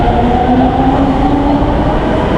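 A metro train on Delhi's Pink Line near Moti Bagh station gives a loud, steady interior rumble and hum with a faint sustained whine, continuous throughout and unbroken by voices.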